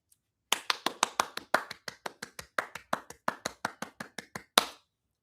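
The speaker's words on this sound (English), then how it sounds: "Clapping for you guys." A single person's hands clapping in a classroom setting, about twenty crisp, evenly spaced claps in a quick steady rhythm, close and clear against silence, ending with one louder final clap.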